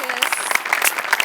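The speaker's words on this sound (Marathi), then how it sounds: "सचिन सरांसाठी एकदा जोरदार टाळ्या." Brief applause from a comedy show studio audience, close and lively clapping with bright whoops and cheers mixed in, over a short burst of cheering voices.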